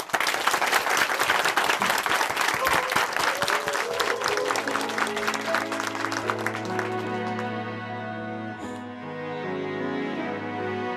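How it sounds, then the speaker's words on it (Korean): An audience at a church broadcast applauds to welcome a singer, dense loud clapping for about seven seconds that fades as sustained piano and keyboard chords of the song's intro take over. "박수로 청해 보겠습니다"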